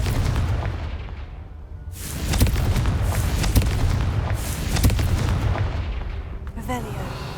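Confringo fire spell blasts in Hogwarts Legacy, loud booming explosions in bursts with rumbling tails, a big one near the start and several sharper cracks afterward, amid game ambience.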